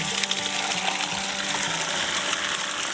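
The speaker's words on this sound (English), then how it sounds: "Now we're gonna pull the drain on the bottom." Dirty water gushes out of the bottom drain of a home fish tank after a heat wave, a steady loud rushing and splashing flow that continues without a break.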